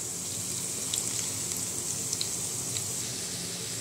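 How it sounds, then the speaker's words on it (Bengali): Chicken pakoras fry in hot oil, giving a soft, steady sizzle with small scattered pops, fairly faint and with no talking. "গরম হয়ে গেলে একটা একটা করে পাকোড়া তেলের মধ্যে দিয়ে দিচ্ছি।"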